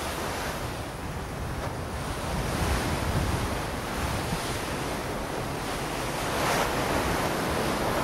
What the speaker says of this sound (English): The ship is soon rocked by violent swells caused by a large cyclonic disturbance several hundred miles away.